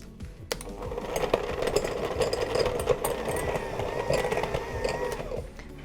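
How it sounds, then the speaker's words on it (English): Unsalted butter being beaten in a bowl by an electric mixer, a steady mechanical whir with rattling for about five seconds, fairly close. "I'm going to give my butter a quick mix just to make sure it's nice and soft"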